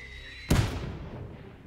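A single mortar shot in the Men of War II video game, a sudden loud thump with a rumbling decay over a quiet battlefield background.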